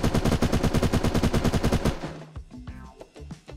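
Rapid automatic gunfire in the video game Unturned, a loud, close, evenly spaced burst for about two seconds, followed by scattered clanks and echoing tails.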